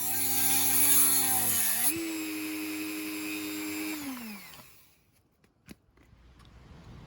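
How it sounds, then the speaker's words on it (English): A Dremel rotary tool cuts into a Kawasaki Z1000SX motorcycle exhaust pipe near a welded joint, giving a loud, steady high-pitched whine with a strained grinding edge that winds down and stops partway through. "So I was hoping the Dremel would be able to do the job, but it doesn't"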